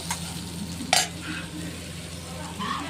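Spices added to boiled chickpeas in a hot pan, giving a continuous sizzle with spoon scrapes and stirring and one sharp clink of a utensil against the pan, no clear talking.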